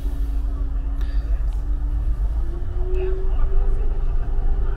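A Volvo Euro 6 diesel engine in a new Busscar Vissta Buss NB1 coach revs from idle toward 1000 rpm. Its deep steady rumble climbs slightly in pitch partway through, heard nearby with no talk.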